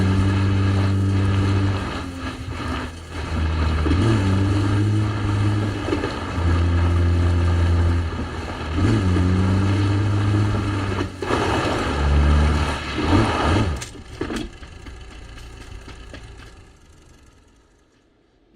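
Vehicle engine in PUBG drives on with a low, wavering hum that rises and dips through gear changes, joined by clunks and rattles, before fading out near the end; no voices present.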